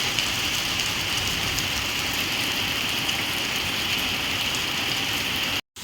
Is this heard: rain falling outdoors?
yes